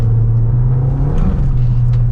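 A Fiat Fastback 1.3 turbo accelerates in Sport mode through a roundabout, its engine giving a steady, loud droning rumble from inside the cabin that rises slightly as it pulls, with no talking.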